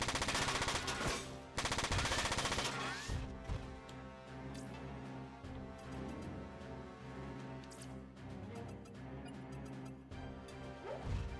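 Gunfire from the Front Mission 4 mech video game: a loud, rapid machine-gun burst at the start, then scattered shots and impacts over a tonal game soundtrack. Quiet overall, with no talk.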